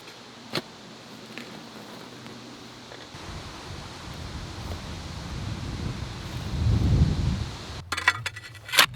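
A shovel scrapes through soil, with a sharp metallic clink early on and more clanks near the end as the blade strikes rock.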